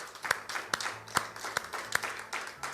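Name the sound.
congregation applause in church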